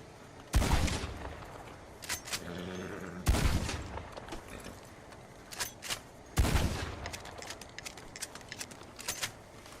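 Shotgun blasts in Red Dead Online, three loud booming shots spaced a few seconds apart, each with a short reverberant tail, plus fainter clicks and reload handling between them.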